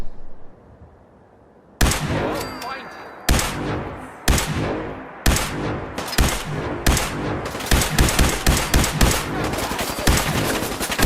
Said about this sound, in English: I'll wait for the shooting to start.